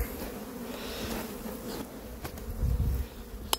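Honey bees buzz around a beehive, making a dense, continuous close-up drone with a few louder passes and a faint click near the end.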